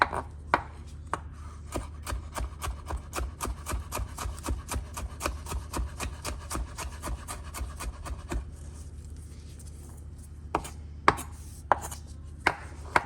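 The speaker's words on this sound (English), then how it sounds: "chop these up a little bit more." A knife chops vegetables for meatloaf on a wooden board in quick, even, close strokes, then pauses and returns as a few scattered, sharper chops.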